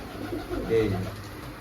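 Pigeons kept for sale coo briefly in a low, soft call near the middle, set against faint background hum and room noise.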